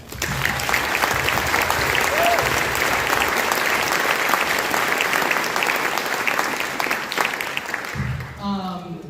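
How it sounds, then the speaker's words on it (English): A school vocal concert audience applauds the school administration, a long loud wash of clapping that carries on for about eight seconds before a voice begins speaking as it fades. "please give a huge round of applause for our amazing administration here at Denver"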